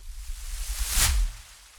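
A swish effect for a motocross commercial: a single quick airy whoosh that swells to a peak about a second in, with a low rumble beneath, then fades, heard alone and fairly close.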